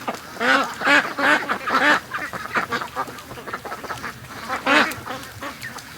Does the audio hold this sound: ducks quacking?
yes